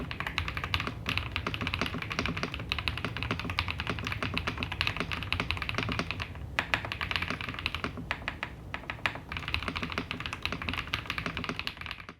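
Continuous brisk typing on a Rexus Aether 75 Revi mechanical keyboard, close and clear, producing dense rapid key clacks with a brief pause midway and no voices.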